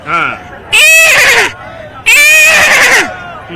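A voice imitates a horse neigh twice: two loud, shrill whinnying bursts with a falling tail, following a brief lower vocal sound.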